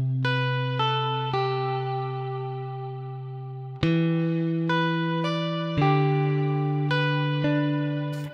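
Humanized MIDI guitar plays, distorted electric-style chords and single notes struck in an uneven rhythm with long sustains, loud and clear, with no talking.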